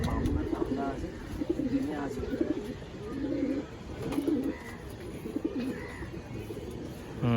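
Giribaz pigeons in a loft coo repeatedly in low, throaty phrases at close range, with people talking quietly in the background.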